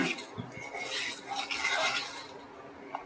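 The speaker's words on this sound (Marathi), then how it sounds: "ह्याच्यात प्रथम तीळ घालून घेऊया तिळाने पण एक खुसखुशीतपणा येतो परतून घेऊया" Sesame seeds are roasted in a pan for a dried bombil chutney, with faint, light scraping and rustling of a spoon stirring the seeds and a soft clink near the end.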